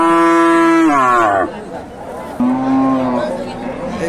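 At a cattle market where a bull calf and cows are up for sale, a cow gives two loud, close, drawn-out moos, the second lower and shorter, against faint crowd murmur.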